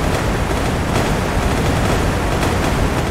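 Dense, continuous naval gunfire from British destroyers in the naval combat game Sea Power, a loud, steady roar of overlapping shots and rumbling blasts with no clear gaps.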